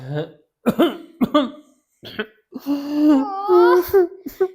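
A few sharp coughs and throat-clearing bursts come close up, broken by pauses, followed by a strained, drawn-out vocal sound.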